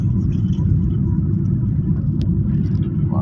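Car driving along a Kenyan road behind a university bus in Kitengela, with a loud continuous low engine and road rumble throughout and occasional faint voices.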